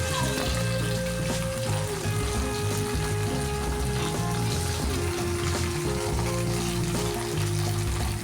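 Okra frying in a pan, a steady close sizzle and crackle of oil running unbroken throughout, with no talk over it.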